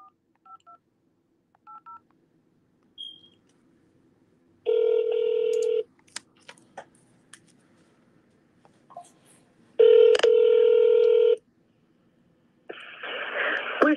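Touch-tone telephone keypad tones sound in short bursts as a number is dialed, with some longer steady tone blocks and faint clicks between them, loud and close.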